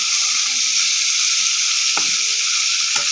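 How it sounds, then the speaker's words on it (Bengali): Papaya pieces being stirred into frying shing fish in a pan, giving a steady close sizzle throughout with a couple of brief scraping stirs near the end. "এখন পেঁপেগুলো দিয়ে দিলাম, একটু নেড়ে চেড়ে নিচ্ছি।"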